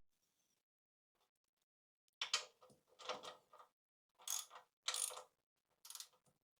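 A ratchet tightens the crash bar bolts on a Voge 300 Rally motorcycle in several short bursts of clicking, close and clear, separated by silent gaps.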